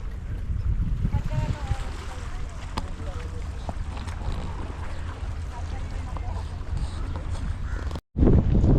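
Strong wind buffets the microphone with a constant low roar on a fishing outing in Saudi Arabia, gusting throughout and cutting off briefly near the end.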